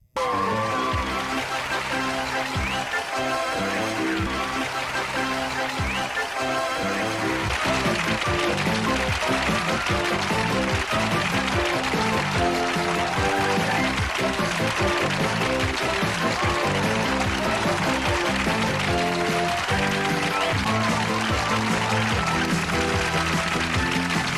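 Upbeat retro theme music from the Couch Potatoes game show plays continuously and loudly, with studio audience applause mixed in throughout.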